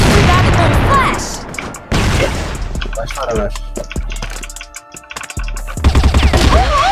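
Loud bursts of CrossFire gunfire, including an M4 rifle, and booming blasts crack out repeatedly, mixed with game sounds and voices talking over the action.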